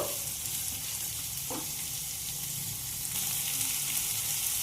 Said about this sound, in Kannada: ಈರುಳ್ಳಿ ಹಾಕೊಂಡಿವಲ್ಲ, ಇವು ಮೆತ್ತಗಾಗುತ್ತಾನ ನಾವು ಹುರ್ಕೋಬೇಕು.